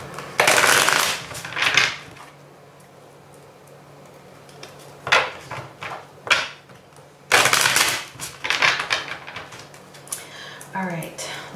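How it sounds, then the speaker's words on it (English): Tarot cards being shuffled by hand come in three close bursts of crisp riffling and slapping, separated by quieter pauses. "So I'm just going to give a quick shuffle."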